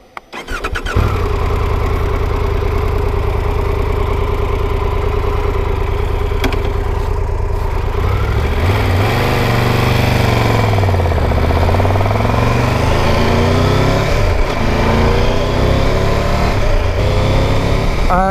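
A Triumph Tiger 1200 GT Pro motorcycle engine cranks and fires, then settles into a steady, close idle with a few blips of the throttle that swell and fall back.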